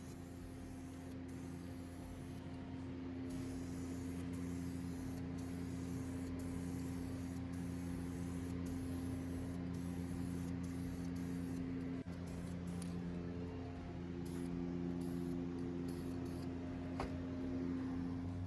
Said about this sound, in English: I turned around all these parts so that I could get the other side painted too